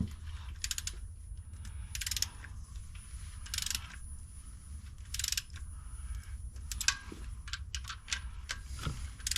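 Wrench clicking as bolts on an LS engine cover are torqued down, a series of short dry ratchet bursts at irregular intervals, close and fairly quiet, with no voices.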